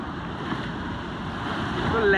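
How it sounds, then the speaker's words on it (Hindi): Sea waves wash in steadily at Bokkhali Beach, a broad, continuous surf wash close by with wind noise buffeting the microphone and swelling slightly toward the end. "तो लहरें धीरे धीरे बड़ा हो रहा है,"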